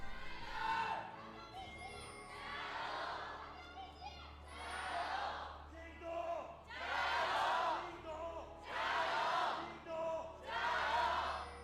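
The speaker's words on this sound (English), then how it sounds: "They deliberately turned the crowd mics down there a little bit, and even then the mic was peaking slightly." JDG esports fans at an LPL arena chant in loud rhythmic waves, six or so surging bursts of massed voices that peak and ease in turn, so strong the crowd mics distort slightly.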